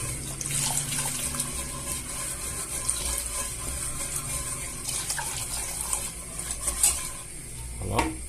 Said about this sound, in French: on incorpore le lait en remuant. faut bien remuer pour pas que ça fasse de grumeaux